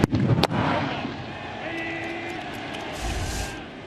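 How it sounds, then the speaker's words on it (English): Fireworks at a baseball stadium during a pitch, with sharp bangs and crackles at the start, then a lingering crowd rumble and broadcast talk over the top. "Fireworks just happened to be timed up perfectly to that pitch."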